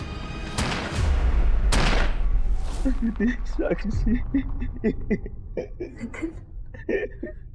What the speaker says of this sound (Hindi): दीदी, अचानक से ना गोली चलने की आवाज आई।